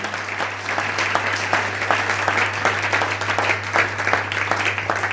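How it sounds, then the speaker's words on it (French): A church congregation applauds during a sermon, a dense, steady wash of clapping from many hands that continues without a break over a low hum. "Acclamez l'homme de Dieu, acclamez"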